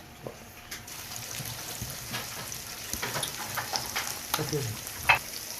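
Onion frying in butter in a pan for a shrimp tagine, giving a steady close sizzle with occasional stirring clatter and crackle, no talk over it.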